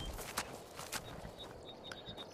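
A horse in the Skyrim video game clip-clops along, its hooves landing in a steady rhythm of sharp, moderately close knocks over soft ambient background, with no talking.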